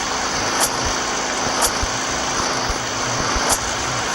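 Steady engine-like drone of a generator running in a survival video game set in an abandoned city, a continuous broadband hum with a few brief bright clicks recurring roughly once a second, no talk over it.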